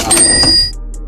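A cash register money sound effect for video editing: a bright mechanical ring and drawer rattle for about three quarters of a second, then a low humming tail, loud and close with no voices.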